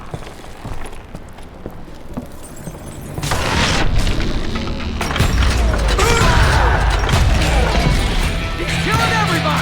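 Dynamite blasts go off in the Call of Juarez Gunslinger video game, a loud booming crash that builds into sustained rumbling and debris clatter, with gunfire and a narrating voice mixed in.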